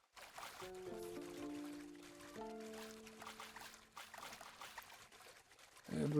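Water pours and trickles as it fills a pool beside a sun temple in the video game Tiny Glade. The sound is soft and faint, with gentle musical notes ringing over it and a brief louder splash at the very end.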